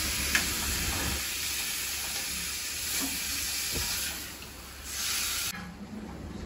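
Vegetables and tomatoes cook down in their own juice in a pan, giving a soft, steady hiss and sizzle with faint occasional stirring, fading slightly toward the end, no speech.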